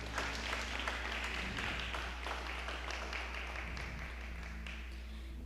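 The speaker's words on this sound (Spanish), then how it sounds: "¿Cuántos le dan un fuerte aplauso al Señor?" A church congregation claps loudly and continuously for several seconds in a reverberant hall, the applause dense and steady over a constant low hum, slowly thinning toward the end.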